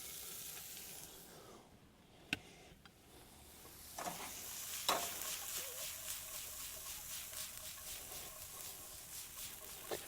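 Fire-roasted corn sizzles and sautés in a hot pan for elote, with scattered stirring clinks. The frying hiss is faint and steady and swells gradually as the corn goes in.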